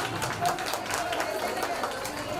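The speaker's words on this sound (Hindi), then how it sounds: "इनके लिए एक बार जोरदार तालियां हो जाए" Audience at a women's association gathering in Mumbai applauding after a short inspirational play, a dense, even wash of many hands clapping at moderate distance, blended with crowd murmur.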